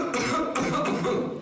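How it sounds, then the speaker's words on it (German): A person coughs a few times in quick succession, close and fairly loud, with rough throaty bursts. "Und jetzt fangen Sie einfach mal ganz entspannt zu husten"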